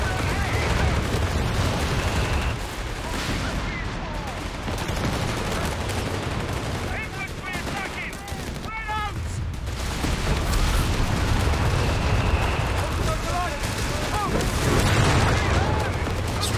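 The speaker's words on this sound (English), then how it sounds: "The artillery overwatch shutting down the Allied attack." An artillery overwatch barrage in Company of Heroes 3 pounds a battlefield with repeated booms and gunfire, dense and continuous, under busy game effects with brief chirping unit sounds scattered through.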